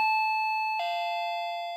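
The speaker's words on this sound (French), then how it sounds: "la bonne vieille sonnette à la porte?" A clear two-tone doorbell chime, a higher ding followed by a lower dong, ringing out and slowly fading with no other sounds.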